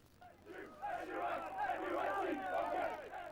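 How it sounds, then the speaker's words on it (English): Manchester United fans gathered outside the Millennium Stadium in Cardiff, a dense crowd of chanting and shouting voices swelling from moderate to loud, heard from a little distance. "Manchester United fans outside the Millennium Stadium weren't just cheering on their side, but protesting against Malcolm Glazer"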